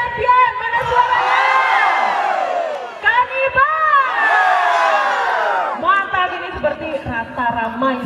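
A crowd cheers and shouts at a boat race championship ceremony on a beach, loud rising whoops and yells in two big surges, with a short dip between them.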